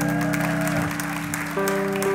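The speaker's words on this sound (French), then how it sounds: "On peut l'applaudir" A church congregation applauds their pastor during a service: a steady, sustained round of clapping from the crowd, with held musical tones ringing beneath it throughout.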